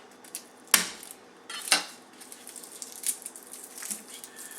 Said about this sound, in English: So use the flat part of the blade, smash it.